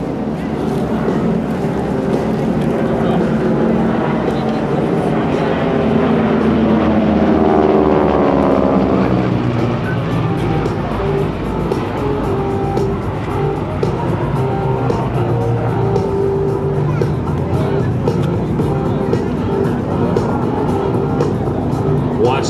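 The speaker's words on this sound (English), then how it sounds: "Overhead, the solos will have detected a group of threatening aircraft intending to attack the target." GEICO Skytypers propeller aircraft maneuver overhead at a military base open house airshow, giving a loud sustained engine drone with a pitch sweep as planes pass. An announcer talks over the engine noise throughout.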